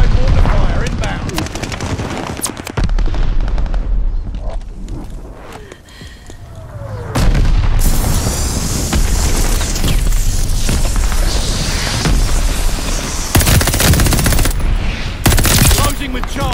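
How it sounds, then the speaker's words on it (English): Call of Duty Vanguard multiplayer battle with supply mortar fire, loud continuous gunfire and booming impacts layered over each other, with dense rattling bursts and occasional heavy blasts throughout. "Supply mortar fire inbound"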